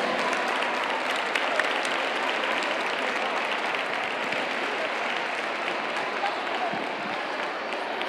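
An audience at a flamenco society event for the Feria del Caballo in Moguer gives sustained applause, an even, dense roll of clapping that holds steady for several seconds.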